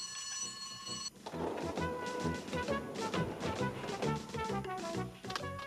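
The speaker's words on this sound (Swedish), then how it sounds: "Brandlarmet, mina herrar." A fire alarm rings in a cartoon scene, starting as a sustained, shrill electronic tone. After about a second, busy music and clattering activity take over, with the alarm tone partly audible beneath.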